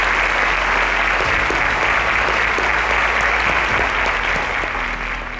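A quiz show audience gives a contestant a loud, dense round of applause that holds steady for several seconds before easing slightly at the end.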